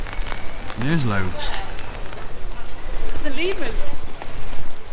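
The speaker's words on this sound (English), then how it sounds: "It's raining." Dense pattering rain falls steadily at Yorkshire Wildlife Park around a nearby speaker, who talks briefly and excitedly over the constant splashy hiss.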